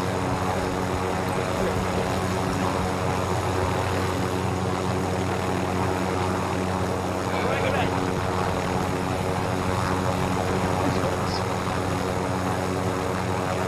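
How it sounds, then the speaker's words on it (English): Continuous loud rotor and engine roar of a helicopter in the video game Call of Duty: Warzone, steady and close throughout, with a faint voice or two barely surfacing underneath. "Brandon, we're coming in helicopter."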